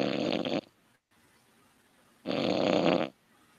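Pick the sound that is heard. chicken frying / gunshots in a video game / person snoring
person snoring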